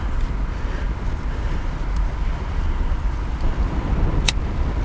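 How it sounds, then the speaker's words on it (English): Wind rushes steadily across the microphone outdoors in Florida during a car repair, a constant loud roar with a brief faint click near the end. "A little bit of wind."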